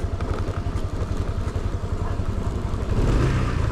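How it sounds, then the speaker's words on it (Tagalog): A motorcycle engine brakes going downhill near Baguio, a close, steady fluttering, clattering drone with a slight rise near the end, with no talk over it. "Yun, engine brake."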